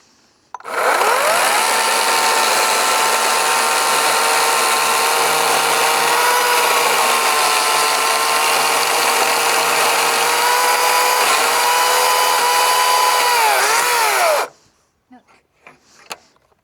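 A chainsaw guided by a dovetail jig cuts a notch into the top of a log, a loud, steady, high-pitched engine whine that holds for about fourteen seconds, then stops abruptly, leaving a few faint knocks.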